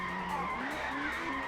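A touring car spins out in the ToCA Touring Car Championship video game, its tyres squealing in wavering, sliding tones over a low engine drone, fairly quiet and continuous.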